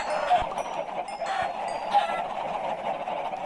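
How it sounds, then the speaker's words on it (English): Chickens in a Minecraft-style video game squawk and honk in a dense, overlapping flock, with sharp calls rising over a steady murmur of clucking throughout. "Man, so many chickens."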